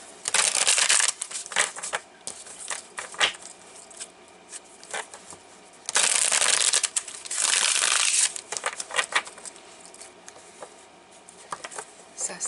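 Tarot cards being shuffled by hand in bursts, with crisp riffling and crinkling passages, the loudest long bursts coming about midway, between stretches of quieter card handling.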